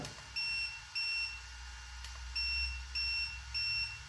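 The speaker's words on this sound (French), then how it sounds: "On va mettre, comme il était d'origine, à 2 bips." A series of short, high electronic beeps in steady groups from a Mini Kraton RC car controller, sounding close and clear over a quiet low hum.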